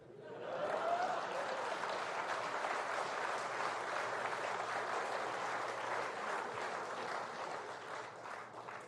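Audience applause at a Narendra Modi speech on tax relief for the middle class: a large crowd claps steadily and loudly for several seconds, then fades slightly, with no speech over it.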